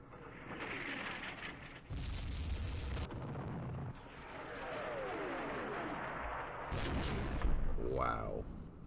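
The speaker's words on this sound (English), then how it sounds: "The artillery is doing its job." Artillery fire in the Campaign Series Vietnam wargame during the 1968 battle of Khe Sanh Village, heard as heavy booming blasts in bursts, one loud block near the start and more bursts toward the end over a rumbling background.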